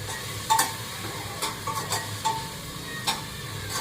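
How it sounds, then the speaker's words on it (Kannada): Coriander powder and garam masala frying in oil at medium flame, with a stirring spoon scraping the pan: a soft steady sizzle broken by several sharp scrapes and clicks, no voices. "ಇಷ್ಟನ್ನ ಚೆನ್ನಾಗಿ ಆಯಿಲಲ್ಲಿ ಫ್ರೈ ಮಾಡಬೇಕು"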